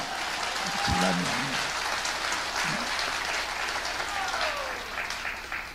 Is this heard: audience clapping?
yes